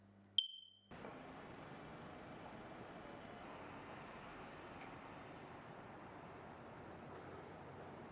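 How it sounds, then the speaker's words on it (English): One sharp high electronic beep from a smoke detector near the start, followed by a low steady background hum. "The smoke detector or whatever started beeping every 40 seconds"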